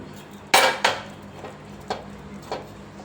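A kadai is set down on a stovetop in a home kitchen while semiya upma is cooked, giving one sharp metallic clank, then a softer knock and two faint taps afterwards, with no talk.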